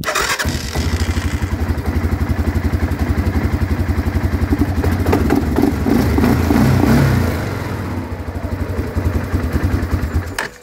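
Quad bike engine starting up close and loud, then running with a fast steady chugging pulse and a brief rev before settling back into a rough idle.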